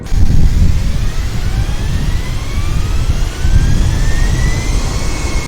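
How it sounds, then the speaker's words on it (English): Airbus jet engines spool up at full power in a Flight Simulator game, a loud, steady roar with whining tones that climb slowly in pitch, with no talking over it. "I'm leaving the brakes on for the moment, and I'm going to let the engine spool up."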